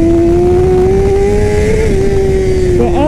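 A race-prepped Yamaha R6 motorcycle engine revs loud and close, holding a high steady whine that climbs slightly and then dips near the end.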